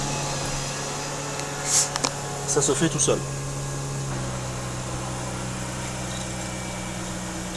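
Mazda RX-8 rotary engine cranking and catching on a cold start, settling into a steady low idle hum, with someone talking in French over it and a few brief clicks early on.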